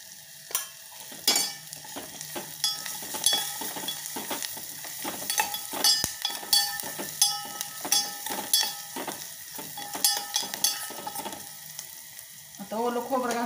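Chopped onion sizzling steadily as it fries in a pan, with crackling bursts and stirring scrapes for a coconut vegetable dish, close and fairly loud with no talk.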